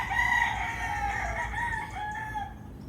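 Fighting cocks at a gamefowl farm in Batangas crow repeatedly, several overlapping calls sounding close and loud, with faint clucking behind them and no talking.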